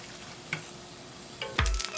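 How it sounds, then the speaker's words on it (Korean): Spring vegetable tempura frying in hot oil, a low bubbling sizzle with a couple of short clinks and a louder burst of crackling near the end as pieces are stirred or lifted, close and without voices. "올라오는 기포가 적어지고 노릇한 색깔이 나면 건져서 기름을 빼준다."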